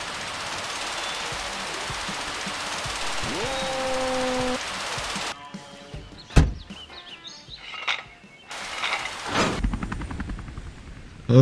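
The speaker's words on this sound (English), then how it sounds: "Helicopter's taken off." Helicopter lifting off in the Emergency 4 video game on a Fairbanks, Alaska map: a steady whirring rotor roar with a rising engine whine that cuts out abruptly, followed by scattered thunks, birdlike chirps and bursts of game noise.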